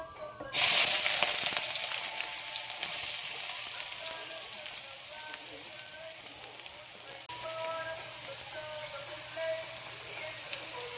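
Two medium chopped onions go into hot oil for a garlic and okra tamarind curry, with a sudden loud sizzle that settles into a steady crackling fry close by, no talking.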